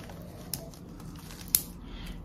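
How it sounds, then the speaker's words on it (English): Two sharp snips of scissors cut through a crinkly plastic wax melt wrapper, spaced about a second apart, close and fairly quiet. "I actually left the wrapper on and cut it with the wrapper on it."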